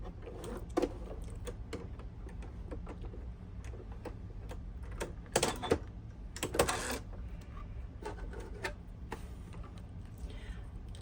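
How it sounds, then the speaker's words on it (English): A home sewing machine shirring fabric with elastic thread in the bobbin gives soft mechanical ticking and clicking in short runs, with louder clattering bursts midway. The sound is fairly quiet and appears alone. "Once you have your machine threaded, you are ready to sew."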